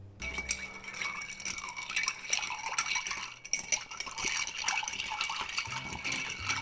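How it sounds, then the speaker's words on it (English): Ice clinks and rattles against glass as a bar spoon stirs a whiskey cocktail, close and continuous with light ringing taps and watery swirling. "we're going to give it a good stir with our bar spoon"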